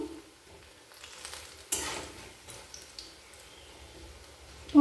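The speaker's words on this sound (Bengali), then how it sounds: "পকোড়াগুলো উল্টে পাল্টে লাল করে ভেজে নিচ্ছি" Cabbage pakoras fry in oil while being turned, with a soft, low crackle and intermittent scraping and clinking of a utensil against the pan, one sharper clatter midway.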